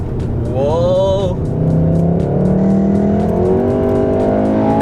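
A Volkswagen Golf 4Motion with all-wheel drive accelerates hard on Sepang Circuit, its engine note climbing steadily through a gear change and rising again, loud and close from inside the car with no talk.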